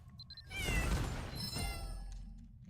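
A video game cat lets out a short meow, heard alone and fairly close within a bright, busy game soundscape.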